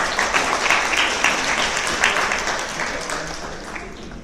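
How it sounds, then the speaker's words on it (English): A large audience at a youth leadership event gives a warm round of applause, a thick wash of clapping that gradually softens toward the end. "Another round of applause."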